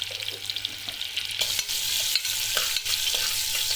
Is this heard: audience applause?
no